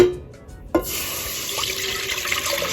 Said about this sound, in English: So now I'm going to pour in the milk.